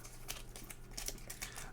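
Stack of Terraforming Mars Ares Expedition board game cards being shuffled, quiet close-up riffling and patting in quick bursts.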